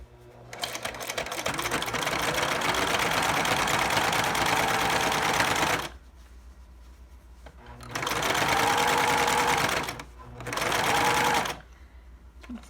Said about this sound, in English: So I finished putting my binding, sewing it down on my quilt all the way around